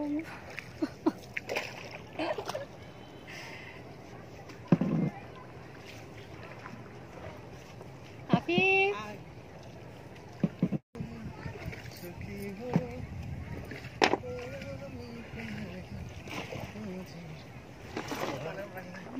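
A boatman rowing a wooden country boat on the Surma river, with soft intermittent water splashes and knocks under steady wind buffeting the microphone, while people talk nearby throughout.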